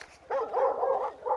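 A dog in the video game GTA V gives a short bark and yip, close and fairly loud, a single brief vocal burst with no speech over it.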